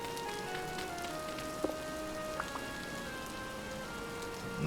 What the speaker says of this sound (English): with this rain that's going to be difficult.